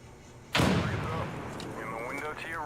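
A sudden loud grenade blast in a military shooter video game, a sharp boom that decays over about a second, followed by a voice shouting and lighter scattered gunfire underneath.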